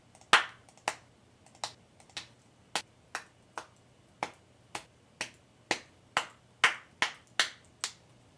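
Self-recorded clap one-shot samples are auditioned one after another in Ableton, about fifteen sharp, isolated snaps spaced roughly half a second apart over a faint background hiss.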